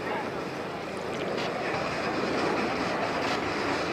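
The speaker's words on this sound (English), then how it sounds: "All right, coming in from the left, the MV-22 Osprey." MV-22 Osprey tiltrotor aircraft flying in from the left at the London, Ontario airshow, a broad, roaring rotor and engine wash that swells slightly as it nears, steady and fairly loud with no voices over it.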